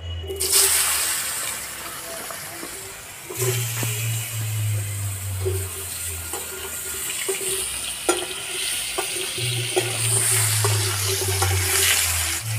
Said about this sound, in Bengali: তেলের মধ্যে আলুগুলো দিয়ে দেবো